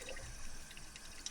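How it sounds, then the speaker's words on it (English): Tap water trickling at a low, steady flow from a Sprinter camper van's DIY water system, a soft continuous dribble heard close up with no voices. "turn the water back on"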